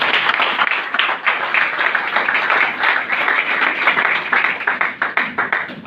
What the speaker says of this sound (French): Acclamons pour la parole de Dieu.